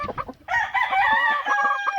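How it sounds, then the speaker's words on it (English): A gamefowl brood rooster, hatched in an incubator, gives a few short clucks, then one loud, close crow that holds for over a second before trailing off. "he'd make somebody a good brood rooster"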